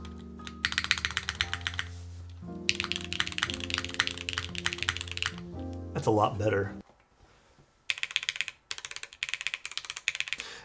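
Keys clatter on a top-mount mechanical keyboard as someone types, including on the arrow keys, in quick close-up bursts with short pauses, while a person talks over the clicking.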